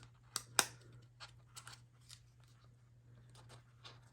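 A strip of tape is pulled and torn off close by, with two sharp rips followed by a string of softer crinkling and sticking sounds against a quiet, faintly humming room.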